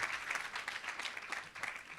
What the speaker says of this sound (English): if we can give the room an applause